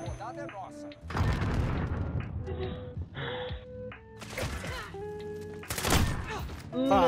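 Sniper rifle shots in a Search and Destroy match, loud booming reports among other gunfire and impacts, heard under excited players talking, with a strong blast near six seconds.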